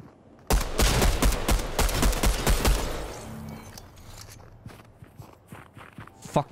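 Fortnite gunfire: a loud, rapid run of sharp shots for about two and a half seconds, then quieter footsteps and scattered distant game sounds.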